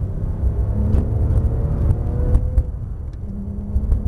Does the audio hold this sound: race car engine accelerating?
yes